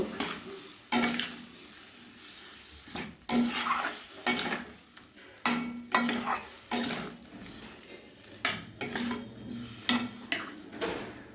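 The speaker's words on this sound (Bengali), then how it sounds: "মশলাগুলো ফুলকপি আর আলুর সঙ্গে আমি 2 মিনিট সময় নিয়ে কষে নেব।" Spices are sautéed with cauliflower and potato in a pan, with a spoon scraping and clanking against the metal in irregular bursts over a soft sizzle and no talking.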